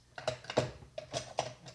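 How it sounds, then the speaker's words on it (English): Scissors trimming a small flaw off the edge of a folded paper greeting card, a series of short crisp snips, close and clear, about four cuts in quick irregular succession with no talking. "So then what I do is I take my scissors"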